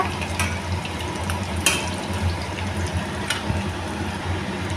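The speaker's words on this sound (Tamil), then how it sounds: "இது நல்லா ஃப்ரை ஆகட்டும்." Radish kola urundai balls fry steadily in hot oil with a continuous close bubbling sizzle, broken by a few sharp crackles and spits, and no voices.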